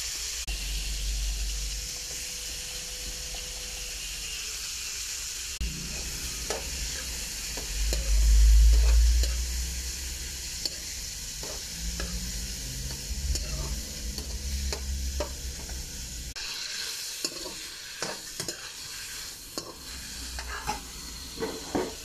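Chicken marinated in soy sauce, calamansi and black pepper fries in a pan for a coconut-milk chicken kaldereta, a steady close sizzle and hiss with stirring scrapes, knocks and a low thump partway through, no voices.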